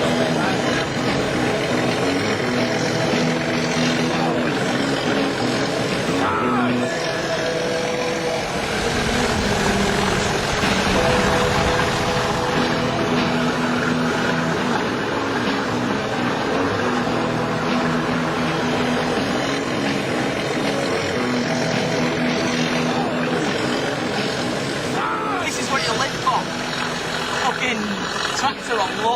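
A loud, labouring diesel locomotive engine, pulling a train alone, roars continuously with a deep throbbing drone that rises and falls slightly, heard from close by.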